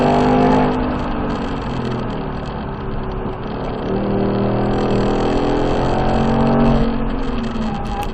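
A Ford Mustang engine drones steadily on a damp race track as the driver works the throttle, its pitch rising and falling through a corner, loud and close from inside the car.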